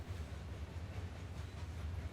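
Train rolling along rails in a steady, continuous rumble with a low drone and faint rhythmic clatter, heard alone at moderate loudness.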